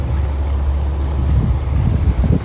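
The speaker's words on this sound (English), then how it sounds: "It is cold. It's about 45 degrees Fahrenheit. It is rainy and it is windy." A boat pulls away from Starved Rock on a cold, rainy, windy day of about 45°F. A steady low rumble of engine and wind buffeting runs throughout, with gusty swells toward the end.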